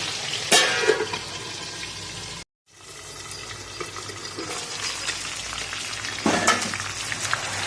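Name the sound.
catfish frying in oil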